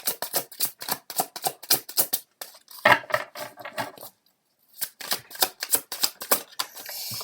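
Tarot cards are shuffled by hand in quick, rhythmic riffling bursts, crisp and close, pausing briefly before the flicking resumes in a steady patter.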